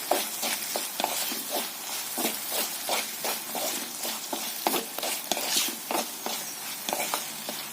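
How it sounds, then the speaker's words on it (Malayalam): Turmeric powder being stirred into sautéed green chillies in a pan, with a steady rhythm of scraping spoon strokes over a soft, continuous sizzle, close and moderately loud, with no talking. "നമുക്ക് അതിലേക്ക് ഒരു 1/4 ടീസ്പൂൺ മഞ്ഞൾപ്പൊടിയൂടെ ചേർത്ത് പച്ചമണം മാറുന്നതിന് വേണ്ടി ഒന്ന് ഇളക്കി കൊടുക്കാം."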